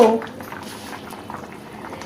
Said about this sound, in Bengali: দেশি মুরগির ঝোল হবে এই যে হচ্ছে অনেকক্ষণ থেকে ফুটছে ফুটছে